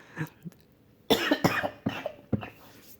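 Several harsh coughs, a couple of small ones and then a cluster of loud bursts, each sharp and close, fill the moment with no talk around them.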